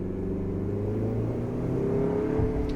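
A Jetour T2 with a 2-litre petrol engine revs up, a steady close engine drone rising slightly in pitch and loudness over a few seconds, with no one talking.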